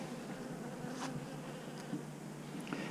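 Honeybees buzz around a hive on a hot day, a steady close droning hum with individual bees passing briefly nearer now and then.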